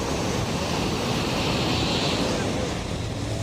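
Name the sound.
sea waves on Goa coast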